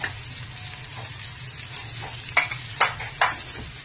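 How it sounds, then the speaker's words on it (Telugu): Curry leaves dropped into hot oil with sliced onions for a mushroom curry crackle in a low, steady sizzle, then three sharp stirring clatters follow close together near the end. "ఇప్పుడు ఇందులోనే కరివేపాకు కూడా వేసేస్తున్నాను"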